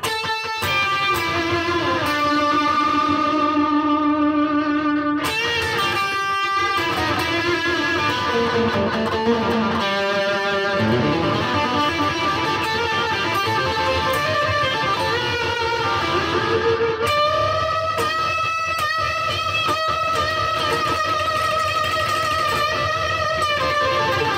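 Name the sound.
electric guitar through overdrive pedal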